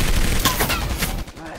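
Rapid video game gunfire laying down covering fire, a dense continuous burst of shots that stays loud before dropping off near the end.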